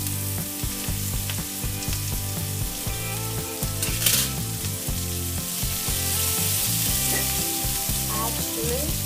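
Green beans stir-fry with garlic and chili paste in a hot pan, a loud continuous sizzle close up with scraping stirring noises throughout, and no speech.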